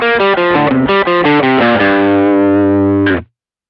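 Fast pentatonic lick on a distorted electric guitar, a quick run of loud picked notes that ends on a long sustained bend-free note ringing out, with no voices.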